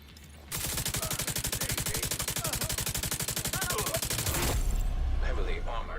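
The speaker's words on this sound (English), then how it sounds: "This is some heavy fire." Heavy automatic gunfire from The Division 2 rattles in a dense, rapid stream for about four seconds, loud and close, then fades into a rumble with faint voices behind it.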